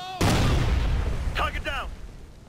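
A frag grenade goes off in Ghost Recon Future Soldier, a sharp loud blast with a rumbling tail. Brief radio-style voice chatter breaks in over the fading boom.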